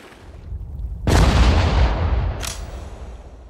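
A rifle squad opens fire in the World War II strategy game Sudden Strike 4: a single heavy, booming volley lands abruptly after a low rumble, followed by a sharp crack and a fading tail.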